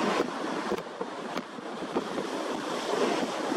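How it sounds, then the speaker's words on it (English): A 3-5 ft swell crashes against the seafront near the Mirror Ball in Blackpool, a loud continuous roar of surf mixed with heavy wind buffeting the microphone. "it's just waves crashing up and bumping into each other"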